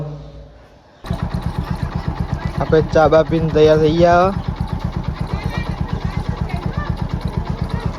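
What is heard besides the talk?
motorcycle engine started and idling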